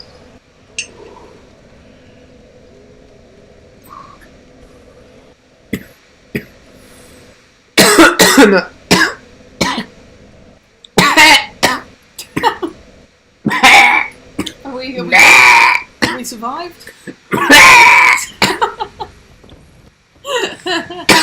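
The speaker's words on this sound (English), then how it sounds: "That's my new cough." A person coughs in a series of loud, harsh bursts, several clustered close together near the microphone, mixed with laughter-like sounds and brief speech in between.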